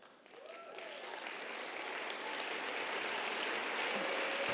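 Audience applause at a community talks event honoring nonprofit staff, board and host committee, a dense, steady clapping that swells from the start and holds loud and sustained throughout.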